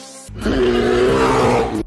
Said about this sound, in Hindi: भूरा भालू गुस्से में दहाड़ता है।